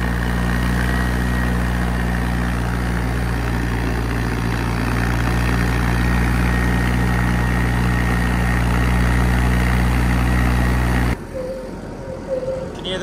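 A heavy armoured car engine labours steadily and loudly uphill under strain, a deep constant drone that cuts off near the end, leaving quieter rumbling.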